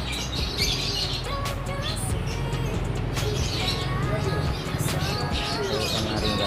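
Bright, rapid chirps and trills from a canary ring out near and steady at a bird shop, with chattering voices and background noise underneath.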